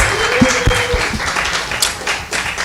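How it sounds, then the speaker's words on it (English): An audience applauds at a community forum, a loud, close burst of dense clapping that continues for the whole stretch, with a few scattered voices and cheers mixed in. "Let's also give another round of applause for Alfonso and Amara,"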